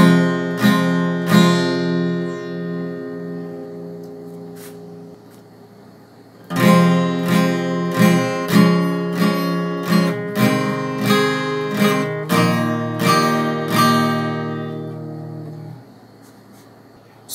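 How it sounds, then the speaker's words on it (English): An acoustic guitar with a capo strums the intro of a song in a steady rhythmic pattern of chord strokes, close and clear, with no voice over it. "So the intro strumming pattern goes like this."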